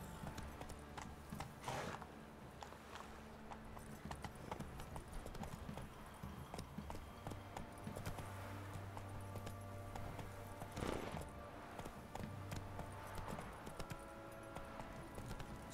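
A horse's hooves clip-clop in The Witcher 3 video game, a steady trotting rhythm through the stretch with brief snorts and swells, fairly quiet and without talk.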